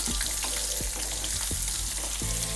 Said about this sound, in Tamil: லைட்டாக அந்த எண்ணெயில் லைட்டாக வதங்கட்டும்